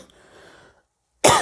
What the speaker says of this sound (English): I coughed on Tuberculosis Day.